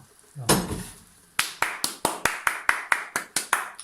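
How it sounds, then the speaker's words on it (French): One person claps a steady run of about a dozen sharp, close hand claps, joining the 8 pm applause for medical staff, after a brief clatter. "j'applaudis le corps médical en même temps que tout le monde, il est 20 h pile poil là"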